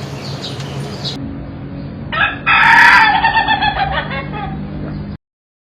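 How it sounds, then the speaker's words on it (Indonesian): A rooster crows once, loud and near, its call rising and breaking into a ragged tail over quiet outdoor background hum. "Pengambilan sampel suara dua ayam selesai."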